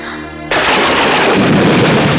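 A sudden loud, rumbling crack of thunder bursts in after a brief quieter opening and rolls on steadily, close and heavy.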